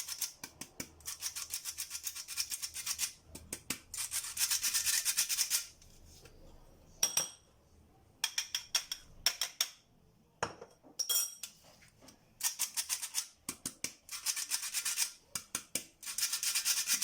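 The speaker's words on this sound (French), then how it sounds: "Et on va mélanger" Flour and bitter cocoa being mixed into Kinder Délice batter in a bowl, a bright scraping and rubbing of a utensil in repeated bursts with brief pauses, close and fairly quiet.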